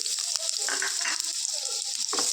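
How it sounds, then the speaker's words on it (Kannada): Onion frying in hot oil in a pan, as the base for a green chicken gravy. A steady, close, loud sizzle runs throughout, broken by a few soft clicks and stirring knocks. "ಎಣ್ಣೆ ಸ್ವಲ್ಪ ಬಿಸಿ ಆದಮೇಲೆ ಒಂದು ಈರುಳ್ಳಿನ ಹಾಕ್ಕೊಂಡ್ಬಿಡ್ತೀನಿ"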